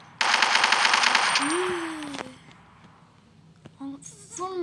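Rapid automatic gunfire from a gun mod in Minecraft, a loud sustained burst for about two seconds that then cuts off, followed by a few faint game sounds.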